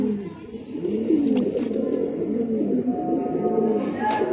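Pure patti pigeons cooing up close, several soft throaty rolling coos following one another in a low, steady rhythm, with light rustling around them.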